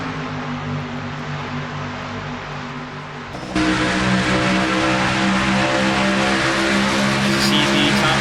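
Race cars in a racing video game at an Auto Club 400 event, a steady loud drone of engines that jumps louder partway through as the pack drives on, continuous with no talk.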